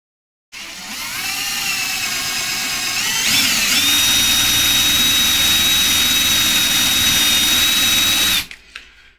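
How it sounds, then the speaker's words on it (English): A cheap drill bit grinds into metal, giving a loud, sustained whine that rises in pitch after a few seconds, holds steady as it bores, then stops abruptly. "I need to make sure I don't drill the good side."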